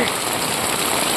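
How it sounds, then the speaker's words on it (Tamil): A dense, steady wash of heavy rain drums on surfaces in a flooded Tirunelveli village street, loud and close, with no talking heard. "எவ்வளோ தண்ணி வருதுன்னு பாருங்கள் அதிகமாக மழை பெய்துங்கிறங்க"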